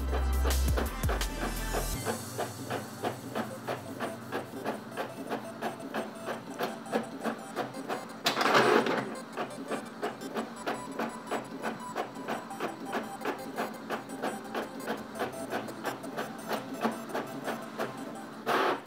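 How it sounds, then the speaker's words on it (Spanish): An Epson L3560 inkjet printer runs two color draft copies, its print head carriage shuttling back and forth in a steady, regular mechanical rhythm with a brief louder burst midway, close and clear with no talking. "ya cogió la orden acá en la impresora también"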